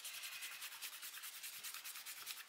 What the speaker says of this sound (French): Alors, on va gommer ici.